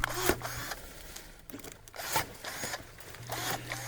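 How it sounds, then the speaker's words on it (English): DeWalt 20V cordless pruner snipping through a palmetto bush outdoors, with several quick sharp cutting clicks and rustling fronds at close range. "now I'll trim up another palmetto bush with these DeWalt clippers"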